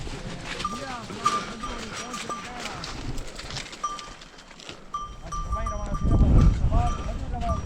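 A flock of sheep near hot springs by Taunsa in Pakistan bleats repeatedly in short, overlapping calls, some near and some farther off, with someone talking over them and faint bell-like clinks.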